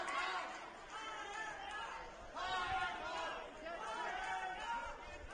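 A rugby stadium crowd at a Rugby Bundesliga match between Rugby Club Luxembourg and Heidelberger Ruderklub swells in waves of cheering and chatter, a broad continuous roar that rises and falls, with commentary over it.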